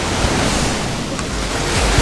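Steady roar of cold ocean surf washing onto a beach in June, loud and close, with wind buffeting the microphone throughout.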